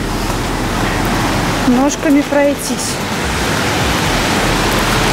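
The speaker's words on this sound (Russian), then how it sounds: "О, ну волны тут, конечно, сегодня бушуют" Rough sea waves crash on a beach at Phan Thiet, Vietnam, making a loud, constant broadband roar, with someone speaking briefly over the surf.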